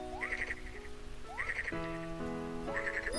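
A cartoonish frog croak from Kirby's Epic Yarn video game repeats three times over a soft patter of rain, each one a rising synthetic chirp that ends in a quick burst of bubbly tones, alongside gentle musical notes.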